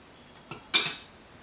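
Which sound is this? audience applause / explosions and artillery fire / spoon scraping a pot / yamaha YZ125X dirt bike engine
spoon scraping a pot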